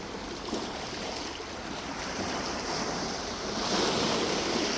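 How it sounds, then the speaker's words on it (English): Ocean surf rolls steadily onto an empty beach at Crescent Beach in November, a continuous broadband wash of breaking waves with wind over it, swelling slightly louder near the end. "Crescent Beach in November."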